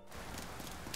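Rain in Persona 5, a soft steady patter of drops on surfaces with faint scattered taps, heard alone and quiet for a brief moment.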